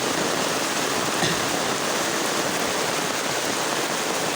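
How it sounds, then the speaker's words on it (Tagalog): Rain falls steadily around someone walking under an umbrella on a dark road, a dense, even hiss of drops close by with no voices. "Ay nagulan-ulan lagi."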